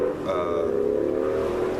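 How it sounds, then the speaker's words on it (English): A loud engine drones steadily throughout, a continuous revving motor rumble close by with a slight rising and falling pitch. "loud motorcycle out there."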